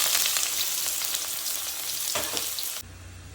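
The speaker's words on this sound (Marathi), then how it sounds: "आता मी बारीक चिरलेला कांदा फ्राय करून घेते।" Finely chopped onion fries in hot oil with cumin seeds for a mutton curry cooked on a traditional wood-fired stove, giving a loud, steady sizzle that cuts off abruptly near the end.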